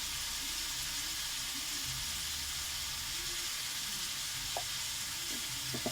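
A pan of bitter gourd, potatoes, onion and prawns seasoned with salt, turmeric and whole green chilies sizzles continuously and loudly, with a few light clinks from stirring toward the end.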